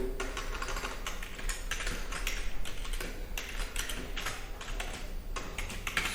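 Typing on a computer keyboard while writing printf code in C: quick, close, irregular key clicks in steady bursts, with no talk.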